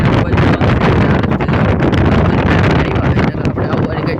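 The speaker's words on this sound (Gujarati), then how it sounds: "પવન બહુ આવતો હતો ને." Strong wind buffets the microphone on a hilly road, a loud, constant roaring gust with rustling, while a voice talks over it.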